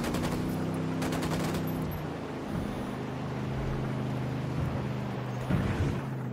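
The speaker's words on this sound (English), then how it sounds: "I'm opening fire on these shitheads." Automatic gunfire in the video game Ghost Recon Wildlands comes as rapid bursts in the opening seconds, then gives way to a steady engine-like drone with a brief later flare of noise.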